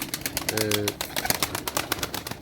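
A brief pigeon coo rises over a rapid, steady flutter of clattering sounds, likely wingbeats, with speech mixed in.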